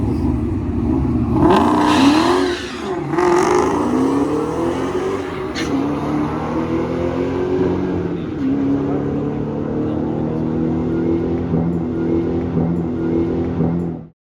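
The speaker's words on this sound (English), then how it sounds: "it started cutting out on me pretty bad" A drag racing car launches with a loud, close engine roar that surges, drops and stutters as it cuts out and bogs, then settles into a steadier revving drone before fading away abruptly at the end.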